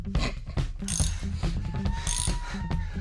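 Wrench ratcheting on the fuel pump rod of a budget big block engine under teardown, giving a run of close, rhythmic metallic clicks and scrapes with brief bursts, no talking.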